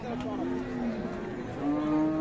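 A cow lows at a busy rural cattle market where cows are sold with their calves, two drawn-out moos rising over a steady crowd murmur and nearby chatter.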